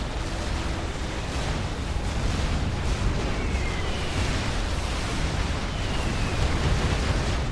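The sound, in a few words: bombing run explosions in Supreme Commander 2 video game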